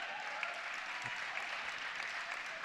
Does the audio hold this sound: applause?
yes